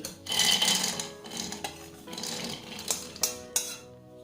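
Dry-roasted peanuts tipped from a pan into another pot, scraping and clattering against the metal in a busy rattle, then a few sharper knocks as the last nuts are cleared out.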